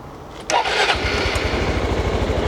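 A Suzuki Skyway 400 ABS scooter with about 12,000 km fires up after a brief starter whir, then settles into a steady, rhythmic low idle pulse nearby.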